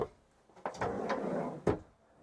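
Large clothes-storage drawers in an AEONrv camper being slid open and shut, a few soft rolling slides with sharp knocks at the ends, close and quiet with no talking.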